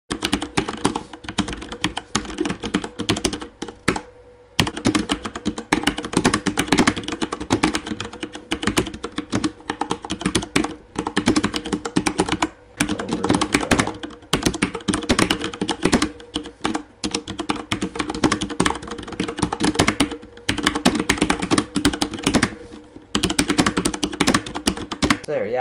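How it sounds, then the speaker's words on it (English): Rapid, continuous typing on a Corsair Vengeance K70 mechanical gaming keyboard, the clicky keystrokes dense and close, broken by a few brief pauses and running for the whole stretch. "that's just kind of some typing on this keyboard"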